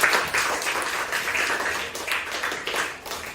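Students in a classroom applaud together, a dense, continuous burst of many hands clapping close by and fairly loud, swelling and easing over about three seconds.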